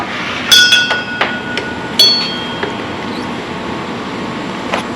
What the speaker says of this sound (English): Got the socket. We're going to unbolt the shock at the top.